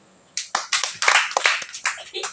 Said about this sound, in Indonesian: Kita tepuk tangan lagi.